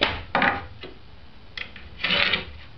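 A scribing tool scratches marks across a wooden board while building a birdhouse, giving several short, close, dry rasping strokes separated by brief pauses.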